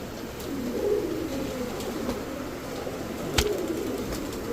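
Pigeons give soft, low cooing, faint and a little distant, over a steady background hum with a brief click partway through.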